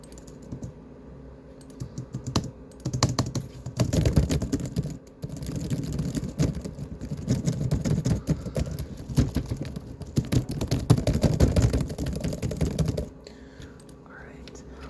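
Fast, aggressive typing on a computer keyboard: dense, rapid key clatter in continuous bursts, close and loud, with a short pause partway through before it stops and faint whispered speech follows.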